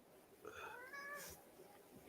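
A house cat gives one clear, drawn-out meow with a rising then falling pitch, quiet and close, followed by a faint short sound.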